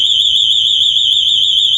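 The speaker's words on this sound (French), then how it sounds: "Système d'alarme là." A house alarm system rings with a loud, steady high-pitched electronic tone, continuous and close throughout.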